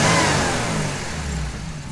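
A 1977 Porsche 911S Targa with a 2.7L engine revs loudly up close, a brief, strong rising and falling engine roar with no talking.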